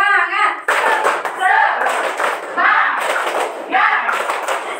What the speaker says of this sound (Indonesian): Tepuk semangat. Semangat. Luar biasa. Sekali lagi. Satu kali lagi. Tepuk semangat.